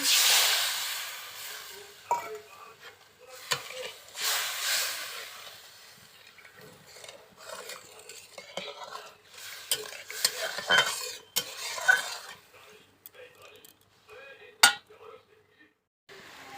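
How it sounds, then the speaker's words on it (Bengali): Water poured into a wok of turmeric, chilli, salt and spices sets off a bursting sizzle and hiss that rises and falls, with clinks of a utensil stirring the pan at close range and no voice. "কড়াইতে জল দিয়ে দিলাম মশলাকে"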